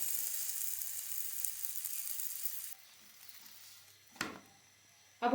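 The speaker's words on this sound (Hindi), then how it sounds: "अब हम इसमें बेला हुआ पराठा डाल देंगे।" A rolled lachha paratha sizzles on a hot tawa with a bright, steady hiss for a few seconds. The frying then drops away, leaving faint crackles and a couple of sharp knocks.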